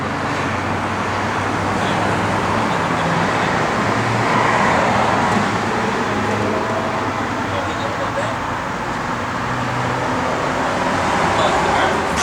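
A 1966 Chevrolet Corvette drives along the road, its engine and tire roar forming a steady, continuous interior drone with road noise, and people talk over it.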